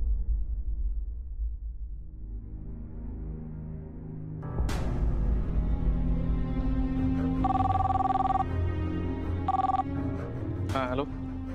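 An electronic telephone ring in a Marathi TV drama scene, sounding in two short tonal bursts near the end over steady background noise and voices.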